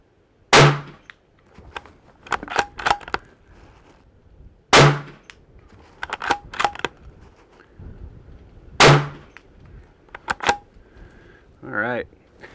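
A CZ 527 American rifle in 300 Blackout fires Hornady subsonic rounds at a 100-yard range. Three loud, well-spaced shots each ring out with metallic clicks and clanks of bolt cycling between them, and a voice speaks near the end.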